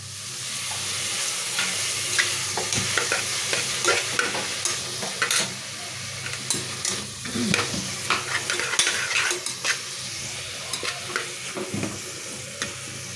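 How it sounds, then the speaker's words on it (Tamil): Onion, tomato, green chili, cinnamon and fennel frying in a pan, a steady close sizzle broken by repeated scraping stirs from a utensil, with no talking. "பட்டை சோம்பு வெங்காயம் தக்காளி பச்சை மிளகாய் எல்லாம் போட்டு ஃப்ரை பண்ணிகிட்ருக்கோம்."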